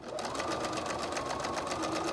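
A sewing machine stitching a buffalo plaid rag quilt along a half-inch seam, a fast, steady mechanical whir with rapid rhythmic needle pulses, close and continuous without pause.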